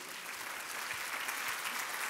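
Congregation applauding during a church service, a steady, dense wash of clapping from many hands that holds evenly for about two seconds with no voices on top.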